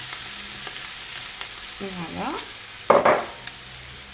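Flour stirred into a sizzling pan for an œuf meurette red wine sauce gives a soft steady frying hiss with a few scrapes of stirring and a brief spoken word near the end.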